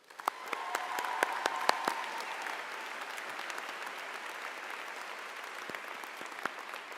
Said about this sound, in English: Can we give a round of applause for the people who have helped you get to the seat you're sitting in today?